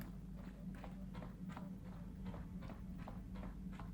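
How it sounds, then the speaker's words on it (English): Soft, evenly paced footsteps of a stowaway aboard a ship in the Star Wars game Knights of the Old Republic, about eight light steps over a constant low engine hum. "you think you hear the soft patter of footsteps behind you"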